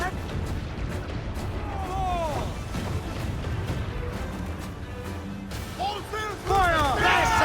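Ship cannons firing in the pirate video game Assassin's Creed IV: Black Flag, heavy booming blasts under shouting voices and game music, with a louder burst near the end.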